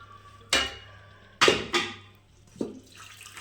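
Soft-cooked toor dal for puran poli is strained through a metal strainer, giving three or four sharp clanks of steel utensils with faint water sloshing between them, close and alone.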